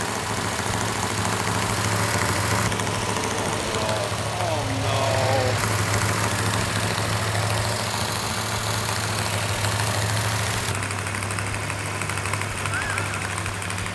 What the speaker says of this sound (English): we have the engine running exactly the way it's supposed to